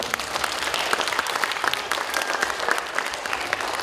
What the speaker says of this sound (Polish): Nie ma, ale brawa dla Sławka.